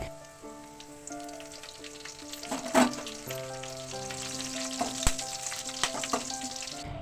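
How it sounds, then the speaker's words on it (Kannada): Mustard seeds, crushed garlic, cumin and curry leaves fry in hot oil for a broccoli fry, giving a steady close sizzle with scattered crackles and a sharp pop near the middle, and no voices. "ಹಾಗೆ 1 ಟೇಬಲ್ ಸ್ಪೂನ್ ಜೀರಿಗೆ, ಕರಿಬೇವನ್ನು ಹಾಕಿ ಫ್ರೈ ಮಾಡ್ಕೊಳ್ಳೋಣ"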